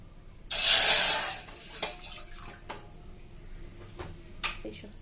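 A short hissing gush of water pours into a pot for gulab jamun sugar syrup, followed by scattered faint clinks and taps.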